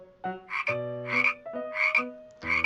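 A frog croaks in four loud, close, resonant bursts at a steady pace, with no other sound around them.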